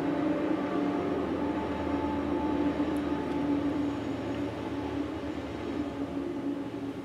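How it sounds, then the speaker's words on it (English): A loud, continuous rumble with rattling and a steady mechanical drone, like a train passing close by, holding strong throughout before easing slightly. "Wow, that's a loud train."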